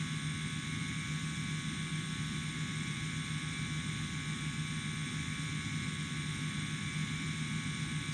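Simulated Airbus A330-200 jet climbing after takeoff from Beirut airport in X-Plane, a steady, even roar of engines and rushing air with a faint hum, no voices.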